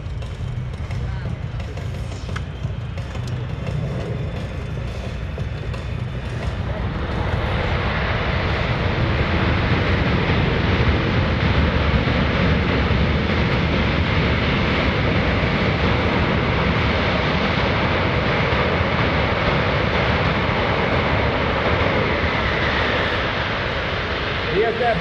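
Boeing C-17 Globemaster III military transport aircraft making a very short landing at an airshow, a loud, sustained jet engine roar that swells and stays heavy throughout, with an announcer talking over it.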